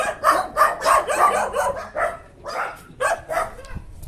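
A dog barks at an outdoor market, a run of close, loud, rapid barks and yelps in quick succession, with short pauses and a few further barks near the end, no speech.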